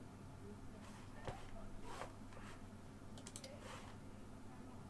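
Mouse clicks while playing Cooking Simulator, a few sharp taps scattered over a steady background hum, with someone talking faintly underneath.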